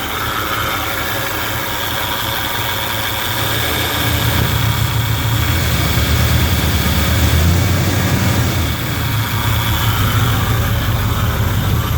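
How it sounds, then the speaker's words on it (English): A 1977 Ford Super Cab with a 400M V8 engine idles loudly and steadily nearby, a smooth, even rumble that swells slightly midway, with no voices over it. "Real nice, quiet, good runner motor."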